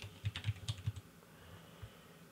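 Quick bursts of keystrokes on a computer keyboard, about a second of close, crisp clicking, then near silence with one last isolated tap.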